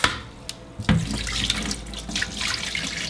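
A kitchen tap gushes water while beef oxtail is rinsed under it, starting with a few clunks and drips before a strong, steady splashing flow fills the sink up close.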